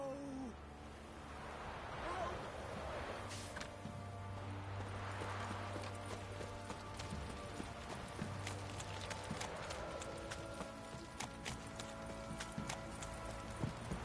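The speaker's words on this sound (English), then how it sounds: "Time to water the horses." Horse hooves in a video game clip-clop steadily at a walking pace over a low ambient drone, with faint indistinct voices now and then.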